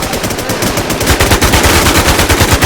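Rapid automatic gunfire in the online survival shooter Infestation fills the clip, a loud, dense, continuous burst of shots with no pauses.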